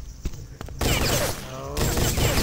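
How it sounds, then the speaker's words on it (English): Rapid bursts of gunfire ring out in a first-person shooter duo match, a dense clattering volley close and loud, with a few lighter shots before it. "You see Jbrown creeping over and Shauna starting to shoot."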